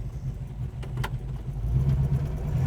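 A 1969 Plymouth Road Runner with a Hemi engine rumbles steadily outdoors near a shop, its low throb swelling slightly as it pulls away, with a grass-cutting mower nearby.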